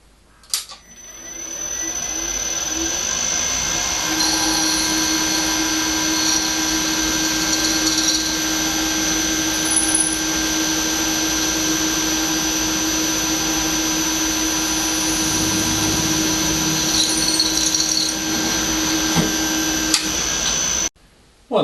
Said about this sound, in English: After centre drilling, I drilled 5 millimeters through the centre of the side.